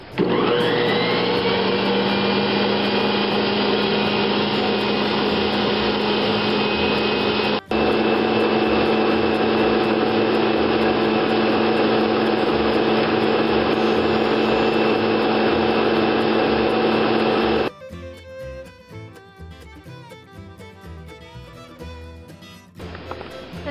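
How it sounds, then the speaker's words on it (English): A stand mixer on speed 2 whirs loudly and steadily while churning raw milk cream into butter, with a brief dip partway through, then cuts off, leaving quieter clinks and handling sounds. "when you're running the mixer and it changes into butter, you can hear the change"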